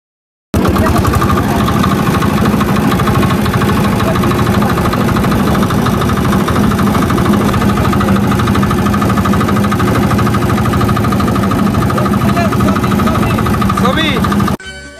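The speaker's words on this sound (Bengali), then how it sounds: "আমরা একটা ইঞ্জিন চালিত একটা নৌকা ভাড়া করি" A hired engine-powered boat crossing a haor wetland near Savar, Ashulia, its motor droning steadily and loudly at close range for the whole stretch, a continuous low rumble with mechanical vibration.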